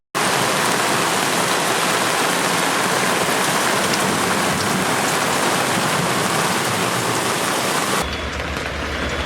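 Heavy tropical rain pours onto a sailboat lying at anchor in the Bahamas, a loud, dense, unbroken roar of water drumming on deck and cabin that ends abruptly near the close.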